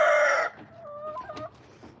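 A loud burst opens the clip, then a rooster's short crow rises and fades nearby, followed by quieter farmyard rustling.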